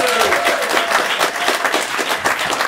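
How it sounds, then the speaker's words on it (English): A studio audience applauds Fat Blob, the character, in a sustained burst of dense clapping that stays loud and steady throughout, with a faint voice briefly audible at the start. "Have a round of applause for Fat Blob."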